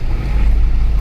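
A Mercedes W204 C63 AMG with an X-pipe exhaust rumbles loudly at close range, a deep continuous burble over the one-second span with no talk.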